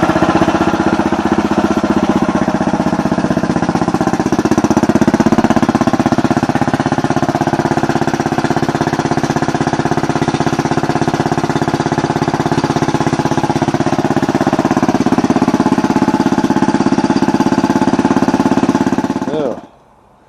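A swapped engine in a 1998 Yamaha Grizzly 600 ATV starts for the first time and runs loud and close, a steady rattling, chugging drone that holds for about nineteen seconds before cutting off abruptly, with a voice underneath.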